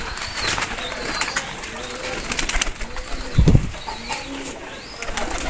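A male Sakki pigeon coos amid other pigeon calls and some wing flapping, with a louder low coo near the middle over a steady loft background.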